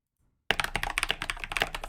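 Thocky mechanical keyboard typed on at close range, a rapid run of deep, rounded key strikes that begins abruptly after a brief silence and continues steadily.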